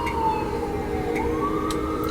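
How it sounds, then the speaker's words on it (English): A fire engine siren wails outside, its pitch gliding up and down in a steady sweep, loud and continuous with rumbling traffic beneath and no talk. "Shut up, fire engine."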